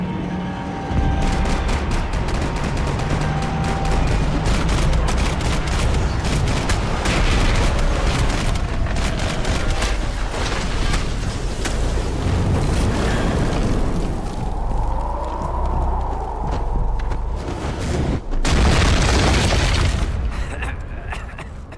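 Dense gunfire and booming explosions from the video game Max Payne 3, loud and continuous, with shouted voices breaking in over the chaos and a heavy burst near the end.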